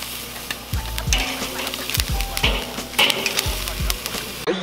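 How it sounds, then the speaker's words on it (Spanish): Thick New York steak cuts searing in a hot pan, with a steady sizzle under repeated low thumps and scraping as the meat is moved and pressed, the beats falling roughly once a second. "hay que recordar que son cortes muy gruesos, por lo cual también por sus lados los vamos a sellar"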